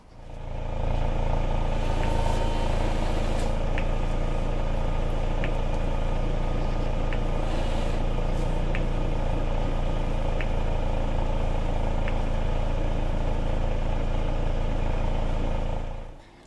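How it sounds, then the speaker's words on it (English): A Ford Fiesta MK6 engine runs at a steady idle, a loud, even hum heard up close from start to finish, with faint regular ticks on top and no voices. "So let's turn the engine on and test it out."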